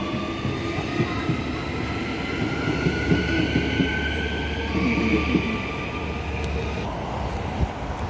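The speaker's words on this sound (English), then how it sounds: "Butler service is slowly arriving on platform number 2" An electric passenger train pulls slowly into a platform at Currambine station, with a low rumbling roll, a sustained squeal of wheels on the rails, and faint voices in the background.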